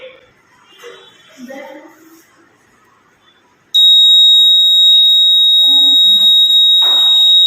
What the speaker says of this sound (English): I made a earthquake alarm. It works on battery, a buzzer, a nut, and a safety pin